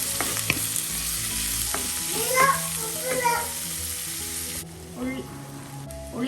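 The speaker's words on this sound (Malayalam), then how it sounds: "അതിലേക്ക് 2 കറിവേപ്പിലയും 2 പച്ചമുളകും ചേർക്കാം. എന്നിട്ട് വഴറ്റാം." Curry leaves and green chillies sauté in a pan for Kerala-style prawn theeyal, a loud, close, continuous sizzle with stirring scrapes, while a voice chatters intermittently over it.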